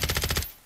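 A quick burst of about six rapid, close gunshots fired through a wall in the video game Call of Duty: Modern Warfare III, ending abruptly with a short fading tail.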